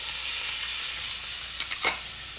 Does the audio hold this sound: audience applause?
no